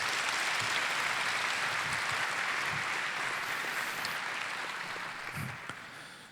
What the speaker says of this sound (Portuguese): Uma salva de palmas a vocês.